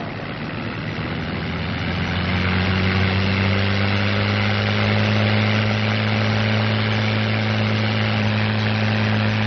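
A North American P-51 Mustang's piston engine holding a loud, steady drone with strong low tones during the takeoff run, propeller set for maximum RPM, continuous and close with no talking.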